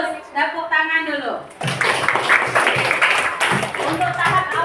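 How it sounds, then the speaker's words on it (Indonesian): Children in a classroom clap their hands together on a teacher's cue, a burst of brisk, crowded clapping that follows a spoken prompt and carries on under more talking from the teacher. "Bagus, tepuk tangan dulu."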